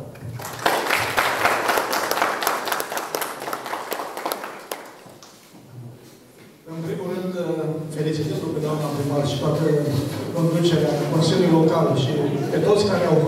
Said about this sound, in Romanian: Vă mulțumim și vă aplaudăm!